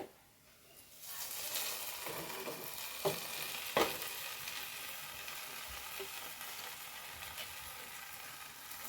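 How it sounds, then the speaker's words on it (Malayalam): Curry stirred in a pan over a gas stove in a home kitchen, a steady scraping stir with soft sizzling throughout, close and moderately loud, with a couple of sharper knocks of the spoon against the pan. "ഇനി ഒന്ന് ഇളക്കി കൊടുക്കാം"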